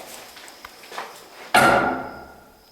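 A door swung open inside an abandoned rest home gives one sudden loud clattering bang with a creaking, rattling tail that slowly dies away, following a few faint shuffles in a quiet room.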